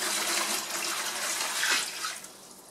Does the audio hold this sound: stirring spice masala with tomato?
no